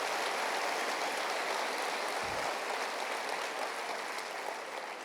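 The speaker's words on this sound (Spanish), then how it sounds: "dele un aplauso al Señor" A church congregation applauds in a steady, dense wash of clapping that fills the space, loud and continuous for the whole stretch with no voices rising above it.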